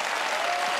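Studio audience at a televised game show applauding, a continuous dense wash of clapping at steady loudness through the whole short moment.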